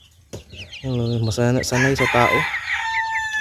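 A Rhode Island Red rooster crows loudly and close by, with harmonic calls stretching over a couple of seconds, followed by Rhode Island Red hens clucking and a brief spoken phrase.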